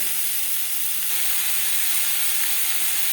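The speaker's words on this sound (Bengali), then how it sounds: "আম হালকা করে ভেজে নেব" Mango pieces frying lightly in a pan for mango chutney give off a steady, close hiss of sizzling oil that holds evenly from start to finish with no voices.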